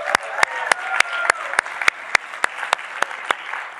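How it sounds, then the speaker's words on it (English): Youth group meeting applause, a small room of people clapping steadily with several loud, sharp individual claps standing out close by over the softer patter. "Give him a round of applause."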